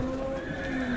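A horse at the Sokuluk livestock market in Chuy, loud and close, with a steady held whinny or neigh and a faint hoof clatter beneath.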